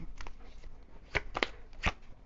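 Tarot cards shuffled by hand in a few quick riffling bursts, close and crisp, with no talk.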